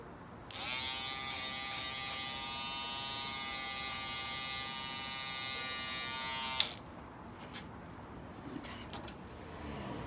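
Electric hair clippers buzz steadily for about six seconds, trimming excess hair during a men's haircut, a close, bright motor whine that cuts off abruptly, followed by faint handling noise.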